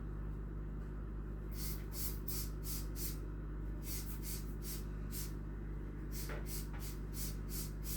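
A spray bottle spritzes cleaner around an apartment bathroom in two runs of short, sharp bursts, about a dozen in all, close and clear over a low steady hum.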